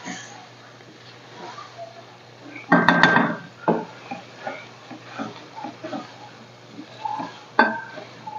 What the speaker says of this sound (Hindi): दाल हमारी फ्राई हो रही है।